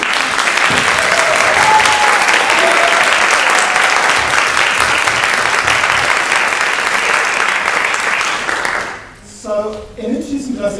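Audience applause at a university inaugural lecture, a dense sustained round of clapping filling the hall for about nine seconds before fading out, with voices briefly emerging as it ends.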